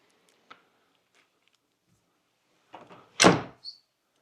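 A pocket door to a second-floor laundry room rolls and thuds shut nearby, a short rumble ending in a solid knock, with a few faint clicks before and a small tap after.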